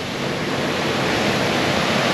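Sea waves surge into a coastal cave near Oualidia, a loud, steady rushing roar of churning water that stays close and unbroken throughout.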